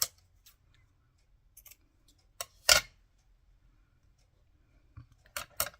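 Scissors snip through lace for a junk journal, a few quiet, sharp, close-up cuts spaced apart, with two brighter snips near the end.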